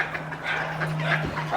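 Dogs in woodland full of dog walkers give a quick run of yips and whimpering barks, close and fairly loud over a steady low hum.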